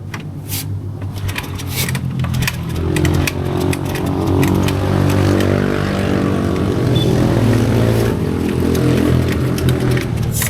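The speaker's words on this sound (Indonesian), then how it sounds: "Bang Ais coba untuk menghandle ya motor Beat" A Honda Beat scooter ridden on the Puncak 2 mountain road, its engine droning steadily and building slightly in the first seconds, then holding a loud, even hum throughout.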